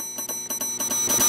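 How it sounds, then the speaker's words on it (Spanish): A bell in a horror video game rung over and over in quick succession, about six bright clanging strikes in a steady rhythm, close and loud, growing slightly louder toward the end with no talking. "¿Y si le sigo tocando la campana, me va a traer otro plato y me va a quitar encima ese o cómo?"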